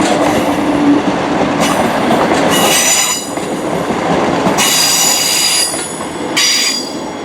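A ScotRail Express train leaves Edinburgh Waverley station, rumbling along with a steady roar as high metallic wheel squeals rise and fade several times.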